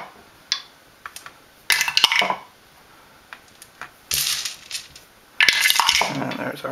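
Dice tossed onto a table in a Dice Tetris game, several short bursts of hard rattling clatter and clicks at irregular intervals, close and crisp, with no talking.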